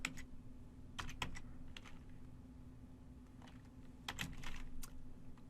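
Commands are typed on a computer keyboard in short bursts of crisp key clicks with pauses between them, close and fairly quiet over a low steady hum.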